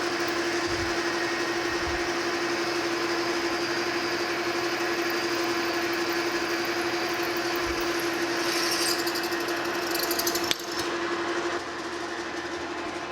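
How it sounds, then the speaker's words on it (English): Steady grinding mechanical drone of a 3/8 inch drill bit boring through a cast iron gear blank, continuous and fairly loud, with a brief shift in tone near the end. "I'm going to come in here first with a 3/8 inch drill bit."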